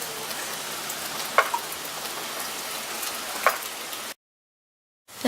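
Steady rain falls outside on a cloudy Sunday, a continuous hiss with a couple of brief sharper drops, until the sound cuts out abruptly near the end.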